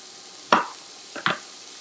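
A knife slicing a bell pepper into thin strips on a cutting board for spaghetti sauce: two short, crisp cuts about three-quarters of a second apart, close and clear, against quiet kitchen room tone.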